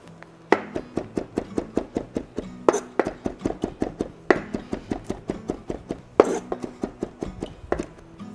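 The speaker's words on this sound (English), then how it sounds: "I'm going to chop up our sage" A knife chops fresh sage on a cutting board in quick, even strokes, a close run of crisp taps punctuated by a few heavier thuds every couple of seconds, with no one talking.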